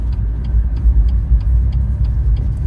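A BMW M2 Competition rolling along a road near building works, a steady low engine rumble and road noise from inside the car, with a faint regular ticking over the top and no talk.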